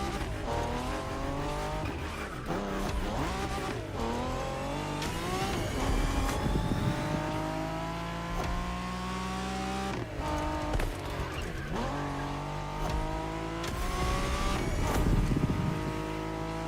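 A Honda NSX races in The Crew Motorfest video game, its engine revving hard and shifting through rising, falling pitches, with tire squeals and skids cutting in, loud and continuous throughout.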